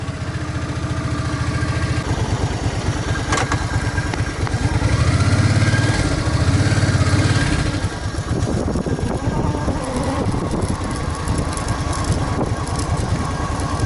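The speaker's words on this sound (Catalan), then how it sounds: "Ya ves cómo frena esta moto, el motor." A motorcycle engine brakes on a ride near Castell d'Atzaneta, its loud close engine pulsing rapidly as it idles and slows, with a brief rise in rumble midway and no talking.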